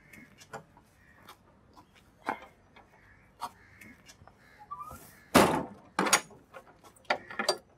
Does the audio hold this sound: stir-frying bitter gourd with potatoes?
no